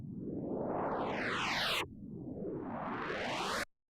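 A synthesized sound processed with phaser and distortion effects in Ableton Live sweeps in two swelling whooshes, each rising and then cutting off abruptly, loud and harsh with no talk.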